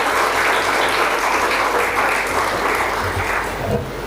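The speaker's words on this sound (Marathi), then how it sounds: "प्रमुख पाहुण्यांचं आपण सर्वांनी या ठिकाणी टाळ्या वाजवून स्वागत करायचे." An audience at a ceremony claps to welcome the chief guests, a loud, dense, continuous round of applause that holds steady before easing slightly near the end.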